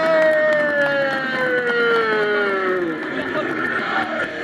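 Crowd cheering and applauding at a CWF wrestling show for a wrestler's entrance, a continuous roar of voices under a loud gliding tone that sweeps downward, with shouts scattered through it.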